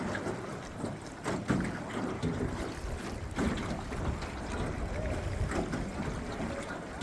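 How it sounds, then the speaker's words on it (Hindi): A boat glides across water beneath a rock overhang among hills, giving a steady low wash and rumble with faint trickling, with no talk over it. "अब ये नाव आपकी"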